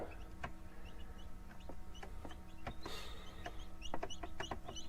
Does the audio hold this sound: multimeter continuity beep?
no